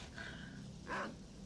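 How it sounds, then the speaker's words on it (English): Dogs growl and snarl in S.T.A.L.K.E.R., a short, rough burst near the listener that swells briefly against a steady game background, with no talking. "Terrible trying to shoot at these dogs."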